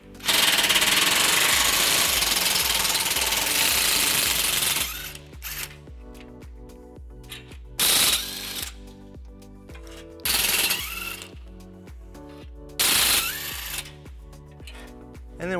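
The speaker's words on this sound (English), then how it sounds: "we're going to remove them using a 14mm socket" Bolts on a 2013 Fiat 500 bumper bracket being loosened with a 14mm socket, starting with a long, loud, continuous powered rattle and then giving way to three short bursts, heard close up.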